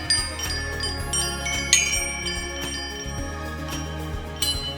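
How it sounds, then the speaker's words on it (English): Pottery wind chime ringing in a cluster of bright, overlapping clinks that strike irregularly and decay, played up close with no voices. "It's a wind chime made out of pottery."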